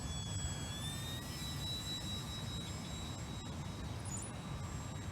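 Hobby King A-1 Skyraider 800mm four-channel RC plane on a landing approach, its electric motor giving a steady whine with shifting high tones over a constant low rumble, heard alone with no talk.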